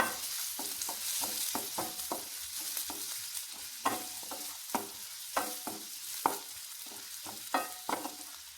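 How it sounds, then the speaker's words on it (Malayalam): Onion and green chilli sautéing in a hot pan, a steady close sizzle broken by repeated sharp scrapes and clacks of a spatula stirring at an irregular pace. "നിങ്ങൾക്ക് സവാളയും പച്ചമുളകും ഇട്ടിട്ടുണ്ട് നല്ലോണം ഒന്ന് വഴറ്റിയെടുക്കും"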